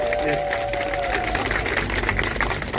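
Audience applause at a Korean Freedom Federation public security forum, a steady wash of many hands clapping through a hall, continuous and moderately loud with a faint tone lingering at the start.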